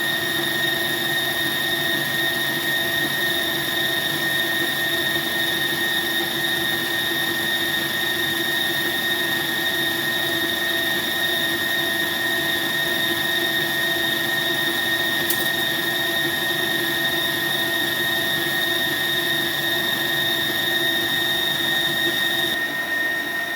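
A stand mixer runs steadily in third gear, beating Napoleon pastry filling, with a constant motor hum and whine held at even loudness throughout, without talk.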